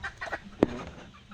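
Brooding hens on a farm make soft, close clucks, with a few low murmurs and one sharper cluck in the middle.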